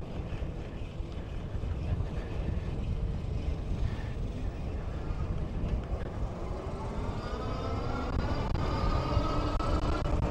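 Heavy wind buffets the microphone in a constant low roar while riding a Tundra e-bike on pedal assist, with a faint rising whine of the motor underneath toward the end.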